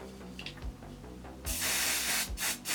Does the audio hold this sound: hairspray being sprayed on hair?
yes